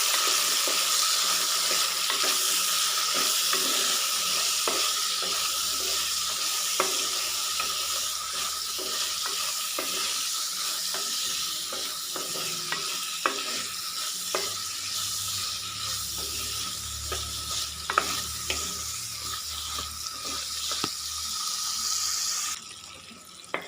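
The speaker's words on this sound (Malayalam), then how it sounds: "നമുക്ക് അരിഞ്ഞു വെച്ചിരിക്കുന്ന വെണ്ടക്ക ഇട്ട് കൊടുക്കാം. നന്നായിട്ട് ഇളക്കി കൊടുക്കാം." Sliced okra and shallots fry in coconut oil in a pan, giving a continuous soft sizzle with occasional scraping stirs and light clinks of a spoon, fairly quiet and without talk.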